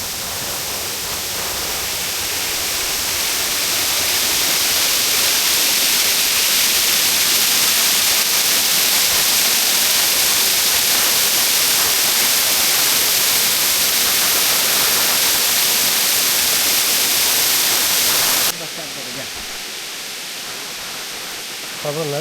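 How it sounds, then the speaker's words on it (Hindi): Triplet Falls, a waterfall in a redwood forest, pours as a loud, steady broadband rush that fills the whole stretch, dropping briefly in level near the end, with no voices heard. "हम लोग तो जा रहे हैं वाटरफॉल के करीब"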